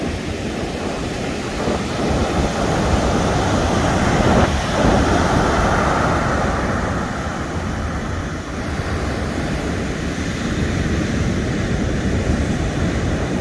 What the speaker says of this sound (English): these waves are just massive